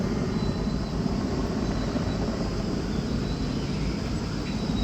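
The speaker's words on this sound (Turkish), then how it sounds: "Helikopterimiz tekrar su almak için e, aşağı doğru inecek herhalde." A Turkish military helicopter fighting a wildfire in Manavgat drones steadily with a dense, continuous rotor and engine roar, loud and unbroken, with no voices.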